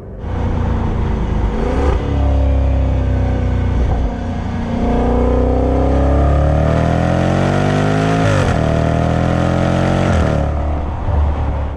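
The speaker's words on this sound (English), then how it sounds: "it's got that very aggressive, burbly, muscular V8 soundtrack" A deep 2020 Range Rover Velar SVAutobiography V8 engine revs up and down several times, its exhaust burbling and roaring loudly close by, with no talking.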